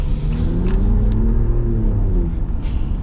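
A 2026 Ram 1500 Rebel GT pickup with a twin-turbo engine accelerates, giving a loud, steady, rumbling engine drone with rising harmonics that holds for about three seconds, close to the microphone.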